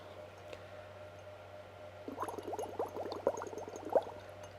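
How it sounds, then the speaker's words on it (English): Breath blown through a straw into a glass of water makes a quick run of bubbling gurgles, close and soft, starting after a couple of quiet seconds and continuing in rapid, uneven pops. "we're going to try and get the water to bubble with minimal effort"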